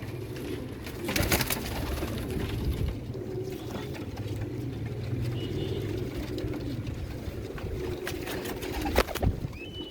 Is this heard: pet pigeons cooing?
yes